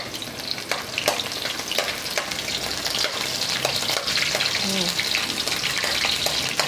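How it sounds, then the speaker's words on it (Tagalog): Garlic sautéing in a pan for arroz caldo, a steady close sizzle of frying with stirring scrapes and clinks, a voice murmuring faintly underneath. "maggigisa na tayo ng bawang"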